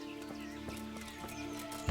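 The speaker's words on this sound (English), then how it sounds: "Oh, there's my horse." Horse hooves clopping in a medieval open-world game setting, a steady series of soft thuds at a moderate distance, with a louder snort or neigh-like burst at the very end.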